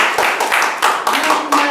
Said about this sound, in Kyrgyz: кыргыз журту үчүн дагы бир ирет кол чаап койсоңуздар болот